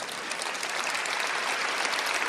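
Steady audience applause in a hall during a priest's talk on his ordination anniversary, a dense even patter of many hands held at one level throughout with no voices over it.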